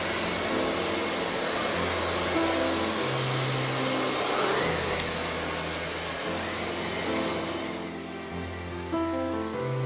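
A Miele Dynamic U1 S7 upright vacuum cleaner runs steadily and loudly throughout, its motor whine holding constant with slight shifts as it is pushed back and forth.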